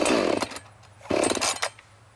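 A Jonsered chainsaw is pull-started after choking, with two bursts of loud rasping starter pulls and brief sputters, each fading to quiet.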